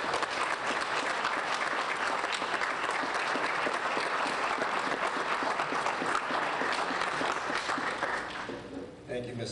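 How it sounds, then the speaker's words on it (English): Loud, sustained applause from a town meeting audience fills the room for about nine seconds, dense and steady before easing slightly at the end. "Round of applause, everybody."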